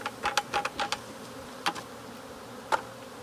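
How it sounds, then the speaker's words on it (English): Honeybees from a tree cut-out, shaken into a bucket, make a steady low buzzing hum, broken by a handful of sharp clicks and taps, close and moderately quiet. "A lot of bees."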